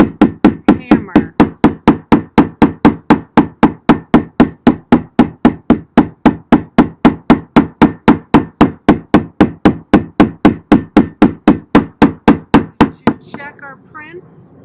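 A hammer strikes leaves sandwiched between sheets of paper to make chlorophyll prints: about forty sharp, evenly spaced thuds in a steady fast rhythm, loud and close, ending with some rustling of paper.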